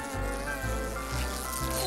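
A steady, loud insect drone from cartoon bees buzzing around a fallen tree, a continuous hum that shifts pitch slightly, with no talking over it.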